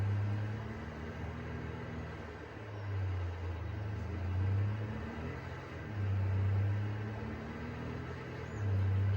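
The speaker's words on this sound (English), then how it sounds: "So let's drive back over there, as long as we don't flip our truck in the middle of the road." Livestock hauler truck driving from an animal market, a steady low engine rumble with slow swells in pitch and loudness, close and continuous.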